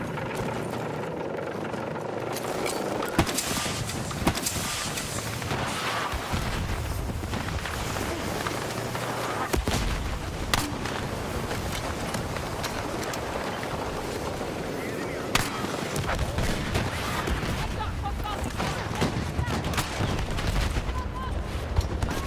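A grenade launcher fires in Battlefield 6 amid loud, dense gunfire and the whir of a helicopter, with repeated booms and cracks. Someone talks over the noise.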